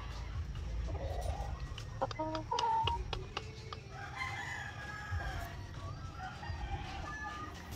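A gamecock crows loudly nearby, a drawn-out call in the middle, with other chickens clucking and faint farmyard noise around it.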